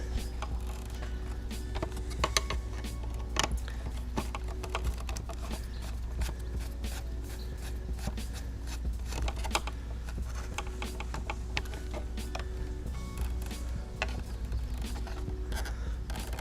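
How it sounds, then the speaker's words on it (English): Small clicks and scrapes come from unscrewing a part on the rear tail fairing of a 2008 Suzuki GSX-R 600 to free the blinker. The close, irregular ticks and rattles sit over a constant low hum. "Now we gotta unscrew this part to get the blinker off."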